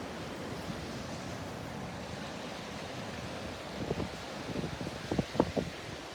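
Ocean surf washes onto the beach at Delnor-Wiggins in a steady, broad rush heard alone, with a few louder breaking waves near the end.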